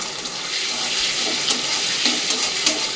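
Paneer coated with salt and turmeric frying in hot oil in a home kitchen, a steady broadband sizzle with faint bubbling and a few soft clicks, close and continuous with no talk.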